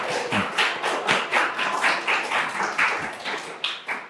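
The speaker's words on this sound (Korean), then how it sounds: "여기 계신 분들 박수 한번 이렇게" Audience clapping at a Democratic Party joint debate of Seosan mayoral preliminary candidates, a steady series of sharp, evenly spaced claps close by with no talking over them.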